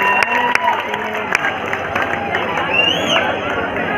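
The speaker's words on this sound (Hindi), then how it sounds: "जोरदार तालियां" A crowd at a small-town gym bodybuilding show claps and cheers as the competitors hit a front double biceps pose, a busy mix of hand claps, sharp knocks and a brief whistle, with chatter underneath.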